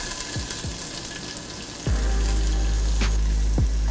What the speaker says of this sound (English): I'm gonna add some olive oil to my pan. I've got some leeks,